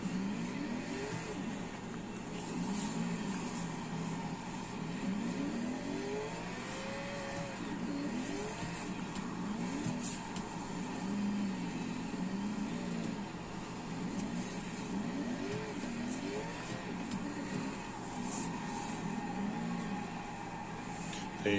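A 1,500hp Tokyo Drift Mustang drifts in Forza, its engine droning and revving steadily with tire squeal through a long continuous slide, moderately loud and without talk.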